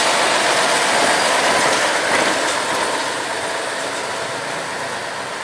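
A railway locomotive moves along the track near a triangular reversing junction, giving a steady, loud rolling rumble of wheels on rails with faint clatter, slowly fading slightly as it continues.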